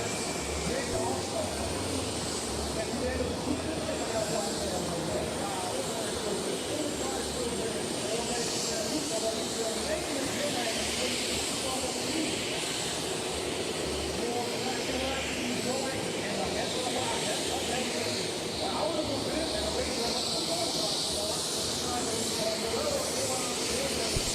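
A turbine-powered pulling tractor with four turbines at a tractor pulling event produces a steady, loud jet-like roar and hiss that lasts throughout, with a commentator talking over it.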